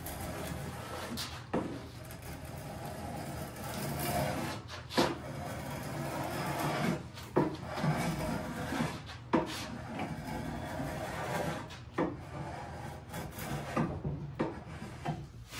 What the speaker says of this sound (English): So I just go along and just peel that edge off a little bit.